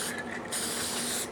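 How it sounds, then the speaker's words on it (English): Permatex copper spray gasket sealer sprayed from an aerosol can during a Honda Ruckus engine rebuild, a close, continuous hiss that briefly dips and then resumes without pause. "this Permatex copper spray gasket is it's just been the best"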